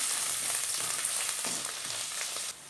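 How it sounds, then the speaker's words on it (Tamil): Ginger, garlic and fennel powder sautéing in a pan for a soyabean fry, giving a loud, continuous crackling sizzle with faint stirring scrapes that drops noticeably quieter near the end. "இப்போ இஞ்சி பூண்டு சோம்பல் நல்லா வதங்கிருச்சு"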